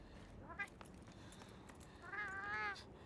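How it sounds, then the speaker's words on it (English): A cat meows in Monster Hunter Wilds, two short faint mews standing out against quiet game ambience. "My cat!"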